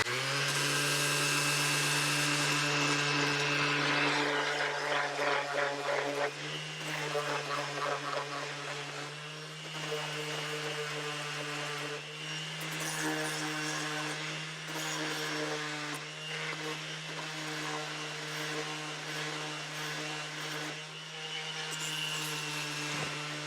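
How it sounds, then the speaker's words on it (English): A powered sanding disc with 80 grit whirs steadily and loudly, with a constant motor hum and rougher grinding bursts as it rounds a wooden skirting board edge. "So I'm just going to use this sanding disc."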